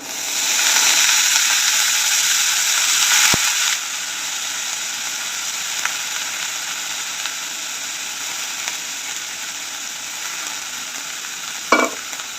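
Cluster beans with tomato frying and being stirred in a pan, a steady loud sizzle that drops slightly after a few seconds, with a sharp utensil knock and occasional clinks near the end.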